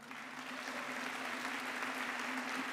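A church congregation at a Baptist Sunday service in Charlotte claps together in continuous applause, with a faint steady hum running underneath, heard from some distance and without speech.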